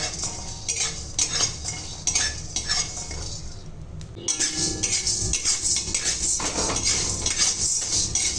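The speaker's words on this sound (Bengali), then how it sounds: "এগুলোকে আমি শুকনো খোলায় সব একসঙ্গে ভেজে নিচ্ছি" Whole spices being dry-roasted in a pan and stirred with a metal spoon, giving close, irregular scraping and clinking with a faint sizzle throughout.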